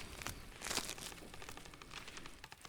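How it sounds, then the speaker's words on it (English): Layered tree creaking and breaking effects form a faint, continuous crackle of crunching, splintering wood with scattered snaps, quiet and unaccompanied by voices. "Bunch of tree sounds, like creaking and breaking sounds"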